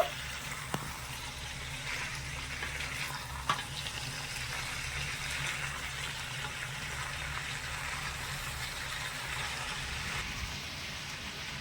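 Drumstick flowers (sajne phool) stirred in a pan, giving a steady broadband sizzle with a couple of sharp utensil clicks near the start, continuous and fairly close throughout, no voices.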